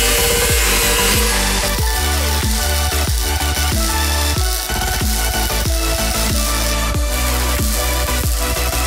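Metal pieces for a truck bumper are cut with a loud, harsh, rhythmic rasping stroke repeated roughly twice a second, close and continuous, with no talk.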